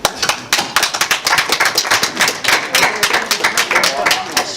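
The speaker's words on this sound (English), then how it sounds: "we got to give Mr. Eddie Hearn and Matchroom a round of applause for tonight" Press-conference audience after a boxing match giving a round of applause, a brisk burst of close, sharp handclaps in irregular rhythm, fairly loud.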